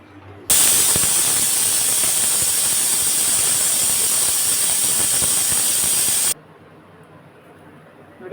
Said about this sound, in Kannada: ಒಂದು ವಿಷಲ್ ಕೂಕಿ ಕುಕ್ಕರ್ ಫುಲ್ಲು ಹಾರಿದೆ